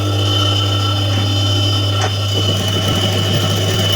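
A sewing machine runs continuously while stitching a kameez side-slit strip, giving a steady, loud mechanical hum and rapid needle chatter with a brief bump midway.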